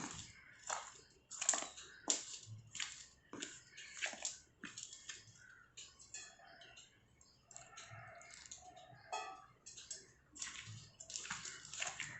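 Kozhukattai dough, made with peanut and sesame filling, being kneaded by hand with water, giving repeated soft squelching, slapping and crumbly pressing sounds close up in an irregular rhythm, with no talking.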